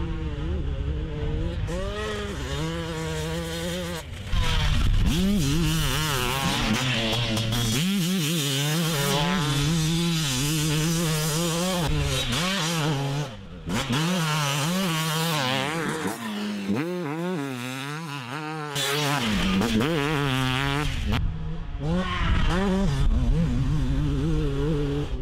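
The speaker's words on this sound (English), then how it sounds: "I mean, everything about a two-stroke is cool. Just the sound of it, you can rev it to the moon." A two-stroke motocross motorcycle engine revs hard and close, its pitch swooping up and down in repeated high, buzzing surges that run nearly continuously, with a few short drops between throttle bursts.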